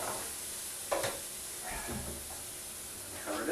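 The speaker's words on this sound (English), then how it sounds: "you're just going to brown this up just a little bit" Pork browning in leftover oil in a pan, a close, steady sizzle and hiss broken by a few stirring scrapes and bursts of spatter.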